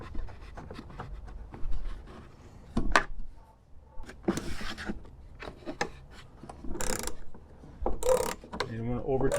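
A T40 Torx tool tightens a trailer hitch bolt on a 2018-2021 Jeep Wrangler, making uneven ratcheting clicks, metallic scraping and grinding close up, with brief sharp knocks throughout.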